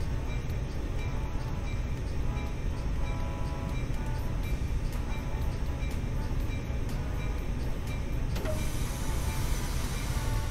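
An American train in the Train Sim World video game goes into emergency braking, a continuous loud rumbling, hissing roar that shifts in tone near the end.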